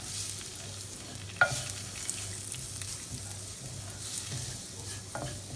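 A curry spice blend toasting in a pan, stirred steadily with soft scraping strokes over a low, constant sizzle, with a couple of sharper clacks of the utensil against the pan.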